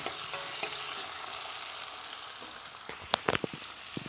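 Chopped onion and tomato stir-fried with cumin for a soybean and potato curry give a continuous soft sizzle, with a few sharp utensil scrapes and clinks near the end.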